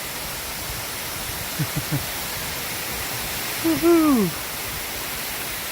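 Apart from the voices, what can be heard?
water rushing down a waterfall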